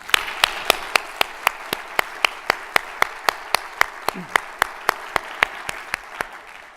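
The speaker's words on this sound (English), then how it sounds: "One more round of applause for Mark." Clapping at an award dinner comes as a steady run of sharp, evenly spaced claps, about four per second, crisp and fairly close over a faint room hum, keeping a regular beat throughout.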